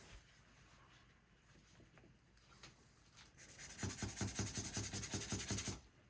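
A thin layer of paint scrubbed evenly across a drawing for a copy of Caravaggio's Narcissus: faint rubbing at first, then a run of loud, quick, rhythmic scrubbing strokes close by that stops suddenly.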